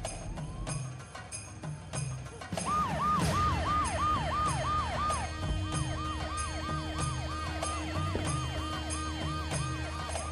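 An ambulance siren wails in fast, repeating rise-and-fall cycles, loud and near, as it returns alongside an armoured military vehicle, with sharp clicks and rumble mixed in.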